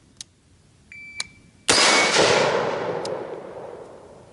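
A 7.5-inch barrel AR-15 rifle fired once outdoors, a sharp loud crack with a long fading echo, preceded by faint clicks and a brief timer beep.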